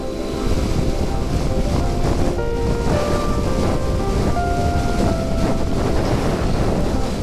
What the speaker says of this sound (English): this is some of the craziest wind that I've ever ridden through in my life